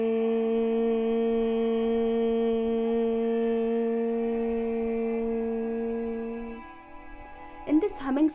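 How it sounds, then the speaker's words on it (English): A steady, sustained nasal hum from a person doing Bhramari pranayama on a long exhale, alone, lasting about six and a half seconds before it fades into faint breathing and small noises. "while exhale, you need to create the humming sound like this"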